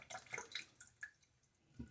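Water splashes and drips close by as a man wets his face at a sink before a shave, a few quick splashy bursts and trickles, fairly quiet.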